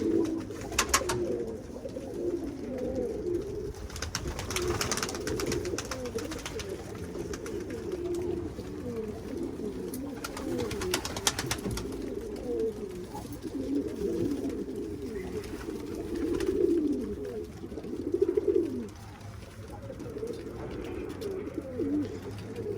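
Pigeons coo steadily throughout in an outdoor loft setting, a continuous low warbling chorus of several birds close by, with brief louder swells and occasional wing or rustling noises.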